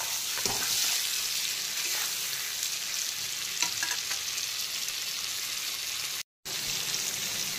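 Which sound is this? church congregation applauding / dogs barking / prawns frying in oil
prawns frying in oil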